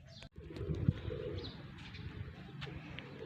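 Soft, low cooing of pigeons close by, repeated murmuring calls over quiet outdoor ambience with a brief flutter and faint chirps.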